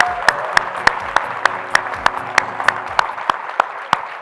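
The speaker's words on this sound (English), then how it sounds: "Let's give them all a round of applause." Audience at a hackathon final demo session applauds the winning teams, light crowd clapping under a sharp, regular beat of louder claps or taps repeating about three times a second.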